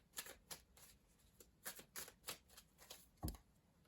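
Rider-Waite tarot cards being shuffled by hand, a run of quick papery riffles and slaps in uneven bursts, close and fairly quiet, ending with one firmer thump of the deck.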